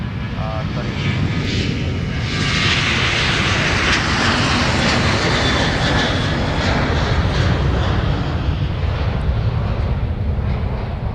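A jet airliner takes off at Minneapolis-St Paul airport with a powerful, sustained engine roar that swells and holds at close range, with faint radio chatter nearby.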